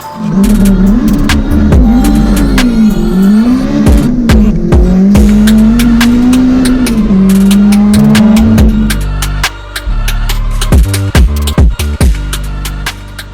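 A loud car engine revs and whines continuously, pitch rising and falling, with tire squeals and skidding, close and sustained.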